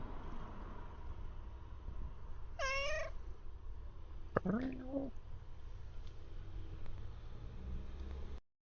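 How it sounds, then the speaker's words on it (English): A cat gives two meows, the first high and wavering, the second lower and drawn out, over steady background hiss. "It's a kitty!"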